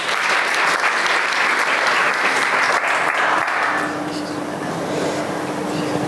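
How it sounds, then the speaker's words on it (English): A large conference audience at a tech event gives loud, dense applause for a speaker's introduction, steady for about four seconds before easing into softer clapping and room murmur. "Give her a big round of applause."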